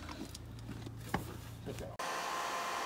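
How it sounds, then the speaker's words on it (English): A heat gun blows on the stuck valves of a 1920 Ford Model T engine, making a steady close airy roar with one brief knock, then a sharper shift to a different steady hiss near the end. "Basically, using a heat gun"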